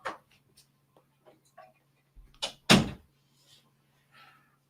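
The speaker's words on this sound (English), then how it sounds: "Close the door." A door swings shut with one loud thud after several soft creaks and clicks, all close by and without speech.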